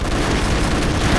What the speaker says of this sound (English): Who just shot an airstrike?